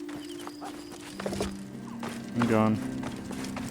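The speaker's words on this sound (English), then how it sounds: "I think I might get a horse from this." Horse hooves clip-clop briefly in Assassin's Creed Odyssey, mixed with footsteps and game effects while someone speaks over them.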